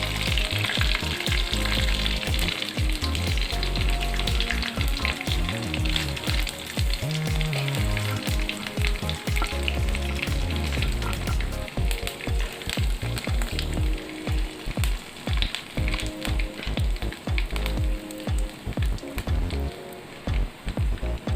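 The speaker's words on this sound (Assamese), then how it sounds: "তেলখিনি গৰম হৈছে। ইয়াত আমি এতিয়া তেজপাত কেইখিলা দি দিম। এতিয়া শুকান জলকীয়া আৰু পাঁচফোৰণখিনি দিম।" Bay leaves, dried chillies and panch phoron frying in hot oil, a continuous crackling sizzle with sharp popping bursts and occasional stirring over about twenty seconds, close and with no voices.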